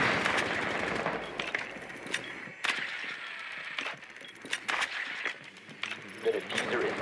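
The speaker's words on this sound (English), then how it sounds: "Swapping mags." A magazine swap reload in the shooter game Rainbow Six Siege: a run of crisp mechanical clicks and metallic snaps, mixed with sharp gunfire bursts and faint voice chatter.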